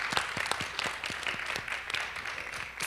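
Audience applause at a faith-themed talk show, dense clapping filling the room steadily for about three seconds without voices over it.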